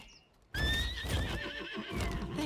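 After a brief quiet moment, a horse in a video game gives a loud, shaky whinny, with hooves clopping underneath as it calls out.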